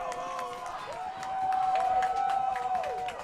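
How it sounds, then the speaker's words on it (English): Home crowd at a varsity high school football tournament game, cheering and roaring in the rain, a broad swell of voices that builds midway, with a sustained horn-like tone and a commentator talking over it. "And the G-men crowd starting to get into it in the rain."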